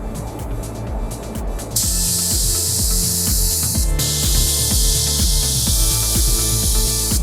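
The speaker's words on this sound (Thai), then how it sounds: "หลังจากทิ้งไว้ได้ประมาณ 3-5 นาทีแล้วนะครับเราก็จะพ่นต่อในรอบที่2" A spray gun lays a second coat of two-component clear lacquer as a steady, loud hiss that cuts in after a short pause and runs continuously, over a low mechanical hum.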